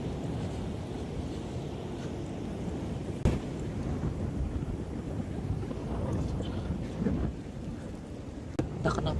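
Steady rain hiss with low rumbling thunder rolling underneath and a couple of sharp cracks, continuous and fairly loud throughout, with no talk over it.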